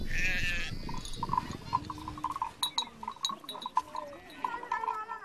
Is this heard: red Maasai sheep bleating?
yes